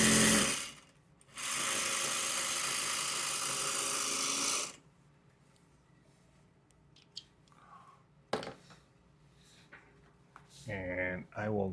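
A sewing machine stitching down fabric for a quilting project runs in one steady, loud whir lasting a few seconds, followed by quieter clicks and handling noises.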